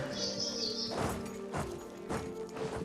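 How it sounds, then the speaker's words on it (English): A pet bird sings to her own reflection in a mirror, a short high chirping phrase followed by a few softer calls, faint and close under quiet surroundings. "the bird is singing to her image in the mirror right now"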